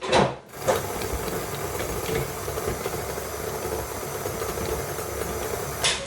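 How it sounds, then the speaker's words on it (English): An electric stand mixer with a dough hook works rustic bread dough with sage and olive oil. It gives a steady, close mechanical whir with a faint rhythmic churn, framed by brief clunks at start and end. "then in with the dough, and we'll mix that for just a further 30 seconds"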